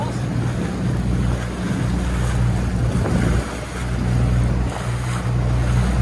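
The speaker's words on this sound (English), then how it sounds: "big gust of wind coming on here now" Steady roar of a strong wind gust buffeting the microphone over water during sailing coaching, with a low boat hum underneath and surges in loudness.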